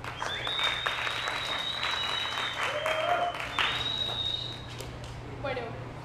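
Audience applause at a science comedy monologue event, clapping that rises and fades with a voice talking over it and a few whistles.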